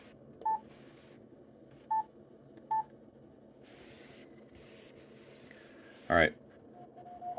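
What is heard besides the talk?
amateur radio stations calling on frequency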